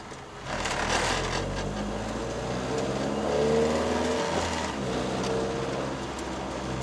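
A 1996 Honda Civic EK four-door sedan with a swapped K24 engine and six-speed manual drives along, its engine droning steadily with rising and falling revs, heard from inside the cabin.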